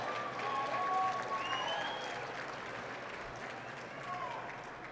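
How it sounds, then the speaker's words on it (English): Banquet audience applauding at a West Point 100th Night dinner for the class of 2016, a steady wash of clapping throughout with some voices mixed in. "You can clap for that, that's fine,"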